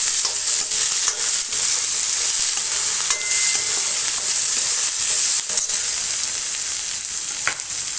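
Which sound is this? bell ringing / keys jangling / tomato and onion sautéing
tomato and onion sautéing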